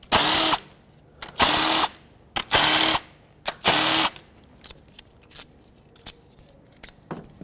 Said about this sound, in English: Now use a 10 millimeter socket and unbolt all the ignition coils.